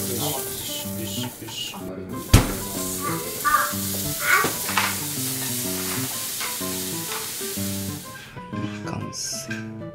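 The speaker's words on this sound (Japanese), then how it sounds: "お野菜炒めてますから" Vegetables stir-frying in a pan, a loud, continuous close sizzle with the clatter of stirring and a sharp knock, while people talk over it.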